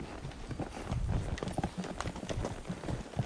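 Horse hooves clip-clop at a steady walking pace across a bridge on a mountain pack trip. The hoofbeats are close and fairly quiet, with a faint voice in the background.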